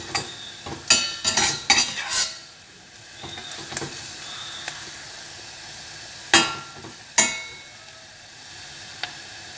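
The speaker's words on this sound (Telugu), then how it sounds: "ఫ్రై చేసుకున్న తర్వాత అందులోకి ఎగ్స్ బీట్ చేసుకొని వేసేసుకోవడమే" Four beaten eggs go into a hot frying pan over already-fried ingredients, setting off a soft steady sizzle, punctuated by sharp metallic clinks and scrapes of a utensil against the pan, close and without speech.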